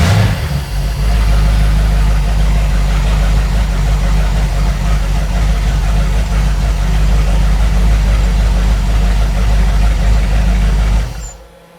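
A Mercruiser 502 EFI V8 in a 1995 Fountain 24CS boat, run on earmuffs, idles with a loud, steady, deep low rumble close by for about eleven seconds, then cuts off abruptly.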